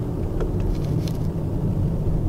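A Lamborghini Urus SUV drives off-road in manual mode, its engine a deep steady rumble with tyre and wind noise, heard from inside the car without talk.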